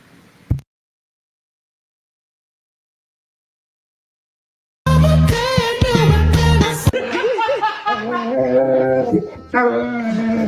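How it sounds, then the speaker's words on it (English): Puppies play together, yipping, barking and whimpering close by in a lively jumble after a brief noise and several seconds of silence. "Puppies being silly."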